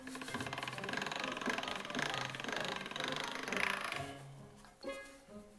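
Pasta dough fed through the rollers of a pasta machine, a steady mechanical whirring and rumbling for about four seconds, then a quieter tail with a couple of small knocks.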